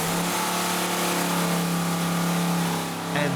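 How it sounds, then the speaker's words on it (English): A car engine is revved before mothballs are added to its fuel, a loud sustained rev held at high pitch that dips briefly near the end before picking up again. "Just to be certain, Adam revs the engine."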